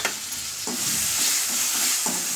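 Grated raw mango with curry leaves sautés in hot oil, a close steady sizzle broken by several rhythmic scrapes of a spoon stirring through the pan, with no talking.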